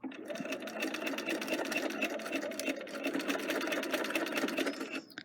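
A sewing machine back stitches a fabric face mask, its needle running in a fast, even rattle that is close and continuous, then slowing and stopping.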